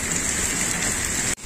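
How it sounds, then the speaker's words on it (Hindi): Heavy rain pours down in a dense, steady roar up close, then cuts off abruptly near the end. "ओके, बहुत ही तेज बारिश शुरू हो गई।"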